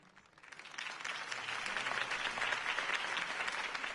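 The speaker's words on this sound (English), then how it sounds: "could have heard that applause" Crowd applause from the Batman Telltale video game swells in after a campaign speech, a dense steady wash of many hands clapping that builds within the first second and holds loud to the end, with no talk over it.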